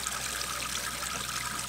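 Water streaming from a portable camping shower unit, a Companion Aqua Cube Logic, once its pump starts: a quiet, steady trickling and gushing flow over a low constant hum, with no voices.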